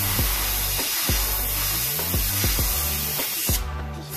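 Airbrush spraying paint over a stencil on a hoodie, a steady loud hiss running throughout with a few brief soft knocks as the stencil is pressed down, stopping near the end.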